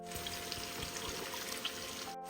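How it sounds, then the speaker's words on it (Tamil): Coconut milk is poured steadily into a pot for pasta, making a soft, continuous trickling stream at low volume with faint clinks and no talking. "1 கப்பு தேங்காய் பால் வைக்கிறேன்."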